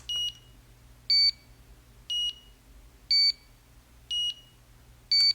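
A steady run of six short electronic beeps from a HONMAX 8800 gym interval timer, evenly spaced about a second apart, clear and close against a quiet hum.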